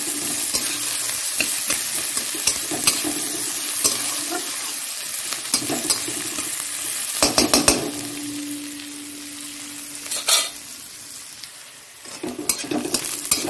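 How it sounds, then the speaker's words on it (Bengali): Onion and garlic frying in a pan, a steady close sizzle with repeated stirring scrapes and utensil clicks against the metal throughout, no talking. "পেঁয়াজটা ভাজা হয়ে গেল,"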